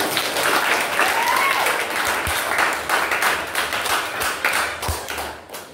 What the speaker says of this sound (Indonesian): ini mau tepuk tangan dulu kita semua